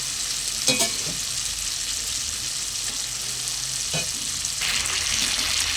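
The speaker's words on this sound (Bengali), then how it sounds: "এবার ভেজে রাখা সবজিগুলো দিয়ে দেবো একে একে।" Fried mixed vegetables stirred into a spice masala in a hot pan, giving a steady loud sizzle with occasional scraping strokes and a few louder bursts, and no talking.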